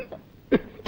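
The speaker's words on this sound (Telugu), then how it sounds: "ఎక్కడిది దగ్గు?" A man gives a single short, throaty cough, brief and close, with a faint breathy sound just after.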